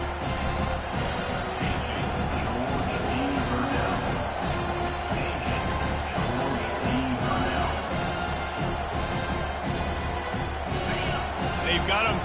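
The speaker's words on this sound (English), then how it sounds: "this crowd trying to help keep them there" Football stadium crowd at a Georgia Tech versus North Carolina college game roaring in a constant dense wash, with a commentator talking over the noise throughout.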